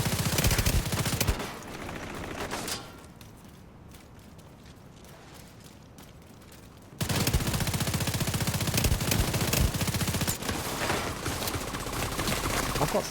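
CTAR rifle fire in The Division 2, heard as dense, loud bursts of rapid shots at the start and again after a quiet stretch in the middle, with steady gunfire running to the end.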